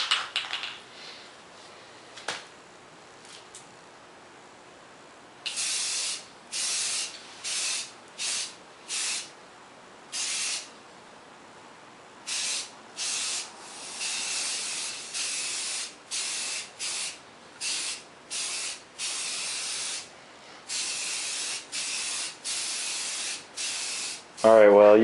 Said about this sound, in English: I used a whole can of primer just on this first coat on the frame and forks.